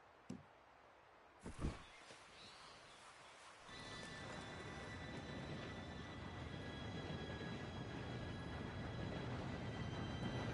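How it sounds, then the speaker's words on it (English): A train arriving in the video game Red Dead Redemption 2: a few faint knocks and clops first, then a rumbling roar that sets in and swells steadily louder as it draws near. "Train should be here any minute now."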